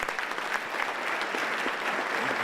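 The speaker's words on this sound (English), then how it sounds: "Well, Selvin, you can tell from everyone's applause that they already like you." Audience applause welcoming a guest named Selvin at a gathering, dense steady clapping from a crowd filling the room, continuous and fairly close, with no talking over it.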